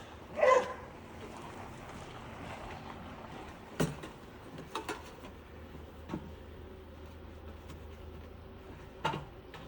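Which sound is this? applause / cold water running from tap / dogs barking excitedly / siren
dogs barking excitedly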